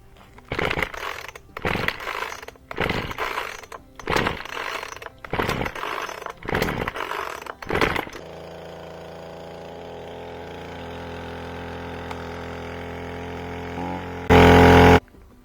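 A Ryobi chainsaw takes five loud recoil pulls with the choke out, each a short ripping burst, then catches and settles into a steady high idle, close by, before a brief revving surge.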